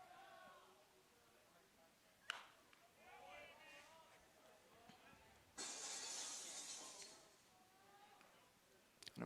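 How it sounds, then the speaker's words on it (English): A glass-shattering sound effect plays over the stadium speakers at a minor-league baseball game after a foul ball, a short, bright crash heard faint and distant beneath a commentator talking. "we have the glass breaking sound effect every time a foul ball is hit"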